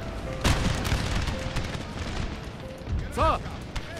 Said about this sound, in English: Cannons, give them canister shot.